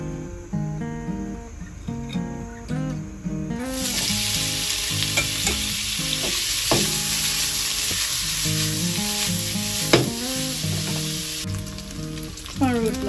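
Blanched pork, drained of water, fries in a little oil with a loud, dense sizzle that swells and crackles steadily, while a spatula stirs and scrapes the pan. Soft background music plays underneath.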